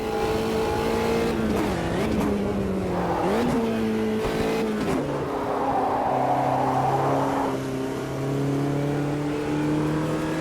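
A classic race car in the Automobilista 2 racing game, Copa Classics series, roars continuously, its engine pitch rising through the gears, dipping at shifts and then climbing again, loud and steady with no talk.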